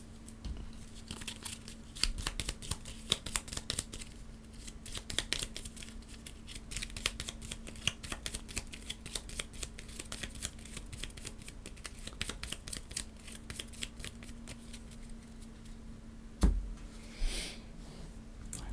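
Cards shuffled at the table during a solo board game of Scholars of the South Tigris, a long run of dense, rapid papery flicking and rustling that goes on steadily for nearly twenty seconds, close up and without speech.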